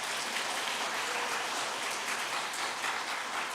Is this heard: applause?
yes